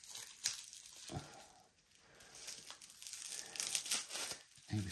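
Packaging for a mature male tarantula being opened, with crinkling and tearing bursts coming in irregular clusters, close and fairly quiet.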